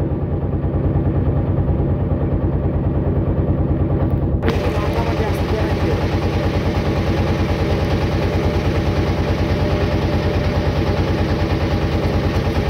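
A trawler boat's engine chugs steadily on Kaptai Lake in Rangamati, a loud, close, rhythmic diesel thrum that holds constant throughout.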